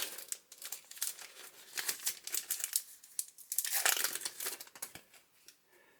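Foil pack of Topps Merlin Chrome UEFA club competition soccer cards torn open by hand, close crinkling and tearing rustles in irregular bursts, no talking.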